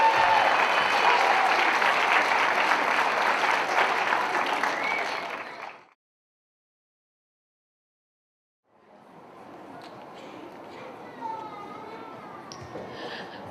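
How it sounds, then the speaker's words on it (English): Audience applause at an elementary school winter concert as students leave the stage: loud, full clapping that cuts off abruptly, then after a silent gap returns softer and more scattered with faint voices in the room. "Let's give one more round of applause as they exit the stage"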